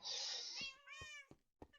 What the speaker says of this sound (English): I believe these are my cats.